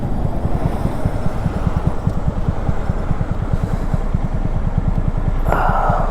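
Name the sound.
sport motorcycle riding past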